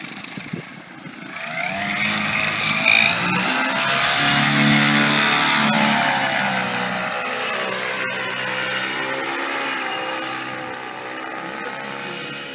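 An R120 paramotor engine drones continuously nearby on a summer day, its pitch rising and swelling as it revs, then holding a steady, slightly wavering roar.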